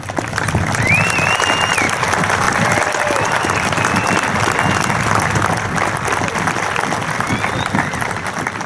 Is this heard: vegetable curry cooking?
no